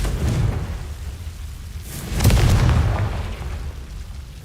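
A Confringo blasting spell in the video game Hogwarts Legacy: a single deep boom with a rumbling burst, rising out of low ambient noise, then fading slowly over a couple of seconds.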